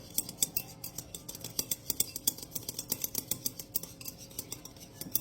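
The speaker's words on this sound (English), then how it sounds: "y'all know I like using chopsticks to mix stuff" Chopsticks mixing a sauce in a bowl, clicking and scraping quickly and steadily, close and fairly quiet, with no voices.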